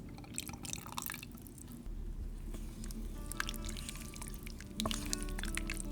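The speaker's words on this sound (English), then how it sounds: "you pour the remaining half and half into the corn chowder and mix it well." Half and half poured into a pot of corn chowder with soft dripping and splashing, a low steady background hum running throughout.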